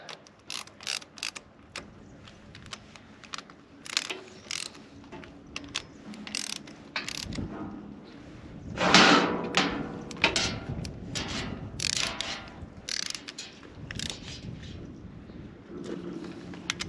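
Wrench work on the bolts of a compressor intake cap, snugging them down after finger tightening: a steady run of close, rapid ratchet clicks in short bursts, with a louder metallic clunk partway through.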